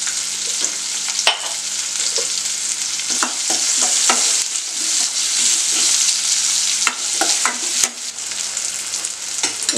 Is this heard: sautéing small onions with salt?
yes